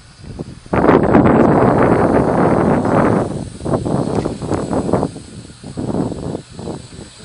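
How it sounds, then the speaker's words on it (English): Wind gusting outdoors through trees on a breezy day, a loud rumbling buffet that surges and eases in uneven waves, with some microphone wind noise. "There goes the wind."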